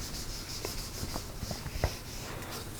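An eraser rubbing across a board during a simple quadratic factoring lesson, faint soft scrubbing strokes with a few light taps over a steady room hiss, no talking.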